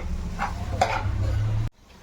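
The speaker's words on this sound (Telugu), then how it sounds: "ఇప్పుడు కాస్త మిర్చి పౌడర్ వేసుకుందాం. లైట్గా 1/2 స్పూన్. లైట్గా కలుపుకుందాం." Potato fry being stirred with chili powder in a frying pan, a steady close sizzle with soft scraping strokes of a spoon, ending abruptly.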